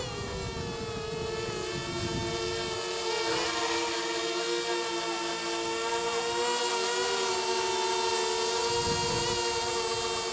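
Eachine Falcon 210 racing drone flying, a loud, steady high-pitched motor whine with shifting tones as the throttle changes, continuous throughout with no talk.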